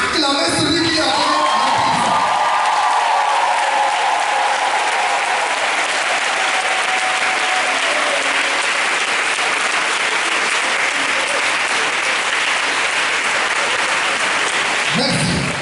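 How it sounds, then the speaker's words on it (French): Congregation at a Catholic healing mass for the sick applauding and cheering, a loud sustained wall of clapping with whoops and shouts that carries on steadily for over fifteen seconds, with a voice briefly audible at the start. "on peut donner des acclamations au Seigneur"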